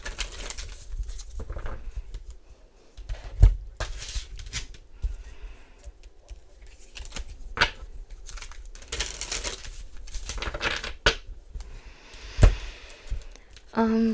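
Tarot cards being shuffled by hand, soft riffling and papery flicks in bursts with a few sharper taps of cards landing, close and moderately quiet with no talk over it.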